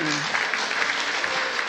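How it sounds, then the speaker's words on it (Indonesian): Church congregation applauding during a Sunday service, a short dense burst of clapping running steadily throughout with voices underneath. "buat tepuk tangan buat Koaan"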